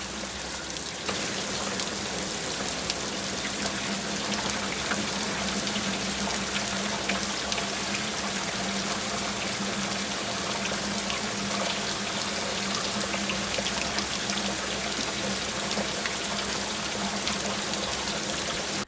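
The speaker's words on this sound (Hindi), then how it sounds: "मैं अपने टेरेस पर आकर और इस खूबसूरत सी बारिश को एंजॉय करती हूँ" Steady rain pours down around a home terrace, a loud continuous wash of drops splashing on hard surfaces with a low drumming underneath, with no voices.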